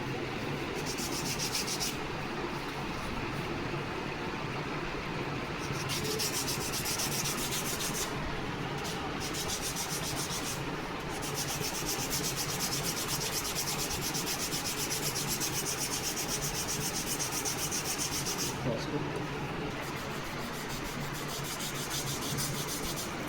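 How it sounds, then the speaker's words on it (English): Steady, close sanding of a balsa wood model aircraft wing, a continuous rough rubbing with rhythmic strokes that briefly shift in tone, no talking throughout. "Do the mirror sanding on another side of the wing."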